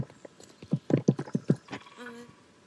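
Horses' hooves clip-clopping in the online horse-riding game Star Stable Online, a quick run of about eight crisp, evenly spaced hoof strikes followed by a short tonal game sound, with no talking.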